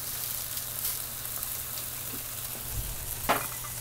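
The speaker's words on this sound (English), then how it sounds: "Get these onions sauteing on here with the garlic" Onions and garlic sautéing in olive oil on a hot cooking surface, a steady close sizzle and crackle running throughout, with a brief utensil scrape or stir near the end.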